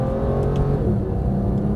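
Porsche 911 GT3 of the 991 generation upshifting on the Las Vegas track, a loud, close engine drone holding steady through the brief shift.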